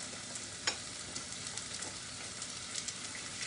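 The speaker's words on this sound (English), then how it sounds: "the paste and lemongrass in. Fry it just a little bit." Spice paste and lemongrass frying in a pan, a dense continuous sizzle close up, broken by a few sharp scrapes and taps from stirring, with no talk.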